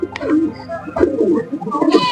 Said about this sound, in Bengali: অসুবিধা নেওয়ার কবুতরগুলো এখন ছেড়ে দিয়েছি